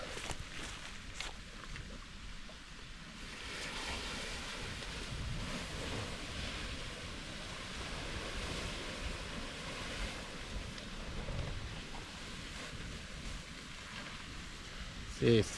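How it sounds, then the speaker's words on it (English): Creek water rushes and churns steadily as ice breaks off and pushes up in the current, a broad, continuous outdoor wash with some wind buffeting the microphone. "See, it's starting to push up those big ice flakes here."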